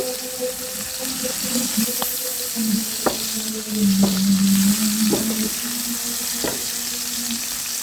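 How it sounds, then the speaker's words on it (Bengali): Small puti fish fry in a hot frying pan with a strong, steady sizzle. Occasional sharp clicks and spatters break through, and faint background noise sits underneath. "ফ্রাই প্যানটা গরম হয়ে গেছে মাছগুলো দিয়ে দিচ্ছে"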